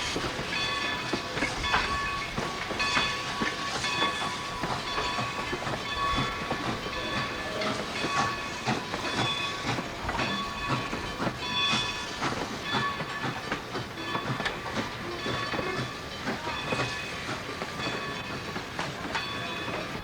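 A Strasburg Rail Road train rolls steadily past with continuous clattering wheels, metallic squeals and hiss, loud and close throughout with no talk.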